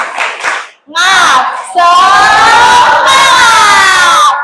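A class of children chants and claps together in a loud spirit-clap cheer, with rhythmic shouted voices and hand claps filling the room after a brief pause.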